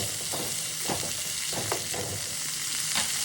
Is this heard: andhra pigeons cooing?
no